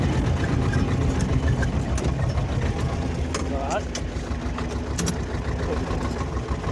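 A tractor engine runs steadily nearby while ploughing sandy, stony ground, with a low, continuous rumble, alongside a few faint clicks and rattles.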